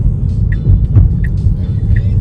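A car on a Belgian road, driven under self-driving assistance, gives a loud, steady low engine and road rumble as the throttle is pressed, with a few brief higher tones over it and no talking.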